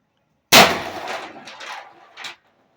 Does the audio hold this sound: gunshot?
yes